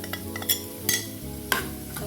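Turmeric, coriander and two kinds of chili powder are sautéed in a pan for a fish fry masala, with a few brisk spatula scrapes over a soft, close sizzle.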